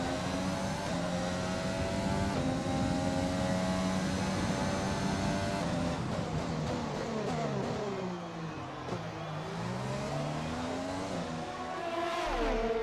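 Formula 1 race cars in the F1 2020 video game at Montréal's Canadian Grand Prix, engines screaming loudly and continuously with rising and falling pitch sweeps as cars pass and shift on the final lap.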